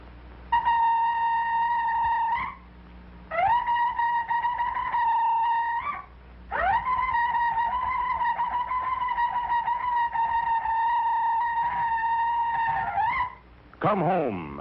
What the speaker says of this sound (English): I have fashioned for myself an instrument made from the horn of a ram